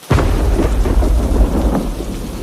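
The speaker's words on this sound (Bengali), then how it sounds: "বিদ্যুৎ চমকাচ্ছে, যা ঝড় শুরু হলো।" A loud thunderclap bursts in and rolls on with a deep rumble over a steady wash of heavy rain during a storm, with no voices.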